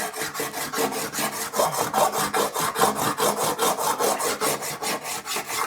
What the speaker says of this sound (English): get a file and we'll start filing the high spots off